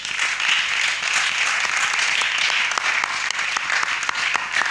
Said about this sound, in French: on peut aussi applaudir à cette question-là.